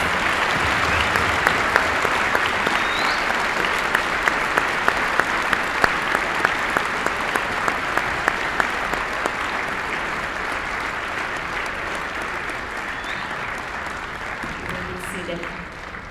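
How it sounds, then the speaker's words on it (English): Sustained applause from a school assembly audience honoring veterans and active service members, a dense, steady clatter of many hands clapping that holds evenly before thinning slightly toward the end. "Please give our veterans and active service members another round of applause for their service."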